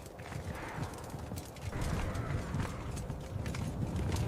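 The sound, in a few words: horse hooves clip-clopping, battle documentary effect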